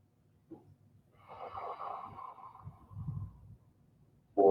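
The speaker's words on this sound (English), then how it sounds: "Breathing in out of the nose." Slow yoga breathing in and out through the nose, a soft airy inhale followed by a longer exhale, close and quiet in a calm room.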